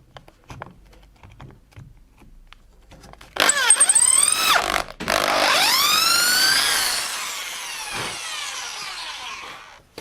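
A power drill whines up in pitch and bites into material drilling a 10.5 mm hole, cutting out briefly, then running again in a long, loud burst before stopping.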